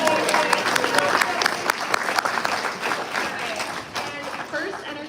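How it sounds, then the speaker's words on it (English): Audience applause fills a convention hall during a Hasbro Star Wars panel at San Diego Comic-Con, a dense, loud burst of many hands clapping with some cheering that holds steady for about five seconds before easing slightly. "So just shout out and a quick applause for Emily."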